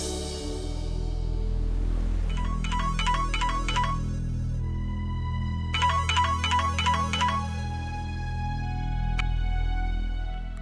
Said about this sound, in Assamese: অৱশ্যে এদিন মই তাক খবৰ ল'বলৈ ফোন কৰিছিলোঁ